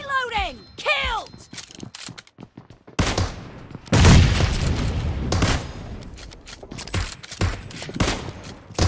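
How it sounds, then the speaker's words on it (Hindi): Bomb blast amid gunfire in a team deathmatch game with Kar98k rifles: bursts of rapid shots, then a loud boom followed by more firing and crashes, with a player talking early on. "अबे बम फेंका रे"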